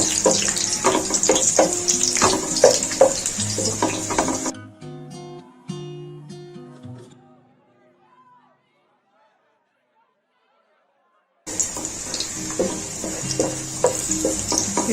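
Garlic and whole dried chilies frying in hot oil for a tadka on split moong dal, a steady close sizzle with stirring scrapes, broken by a quiet gap before the frying resumes.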